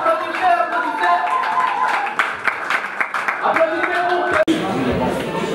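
An audience at a gospel music awards candidate showcase claps steadily after a performance, with talk and voices running underneath, then a sudden cut near the end.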